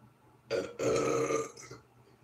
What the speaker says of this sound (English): I'm like trying to work on a burp.